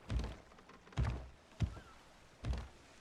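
Distant cannon fire in a pirate video game: four muffled, booming thuds spaced about a second apart, faint and low with no voices over them.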